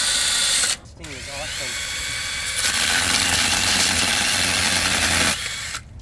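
A Sainlogic mini chainsaw cutting through wood, a loud close buzzing whine that drops briefly, then runs steadily under load for several seconds before cutting off, with a voice briefly audible.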